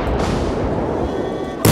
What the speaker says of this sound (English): since I have bigger guns, all my shots are overpenning